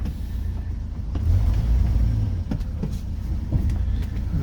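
A 1982 Ford F150 Bullnose pickup engine idles steadily with a deep, low rumble, close and continuous, with a few faint clicks over the drone.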